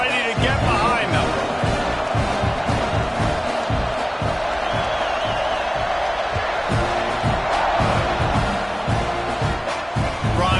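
Stadium crowd in the College Football 26 video game roaring steadily at kickoff, a dense, continuous cheer beneath a commentator's voice.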